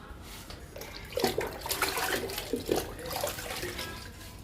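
Liquid fertiliser poured from a mug onto potted money plants, a steady splashing water pour running for several seconds with irregular gurgles and drips.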